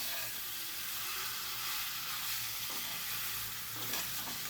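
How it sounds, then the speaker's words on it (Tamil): Marinated chicken tossed in a kadai with two spoons of hot oil for a dry chicken dish, giving a steady close sizzle with soft stirring scrapes throughout and no voices. "இப்போ நான் 30 நிமிஷம் ஊற வச்சுருந்த சிக்கனை கடாயில் சேர்த்து நல்லா பிரட்டி விட்டுடுறேன்."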